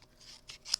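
Scissors snip the tip off a die-cut paper card piece in a quiet crafting space, three short crisp close-up cuts in quick succession, the last sharpest.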